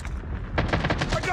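A rapid burst of automatic gunfire in the video game Call of Duty Mobile hits the player. The shots are quick and fairly faint, arriving as a short cluster of sharp cracks over game background sound.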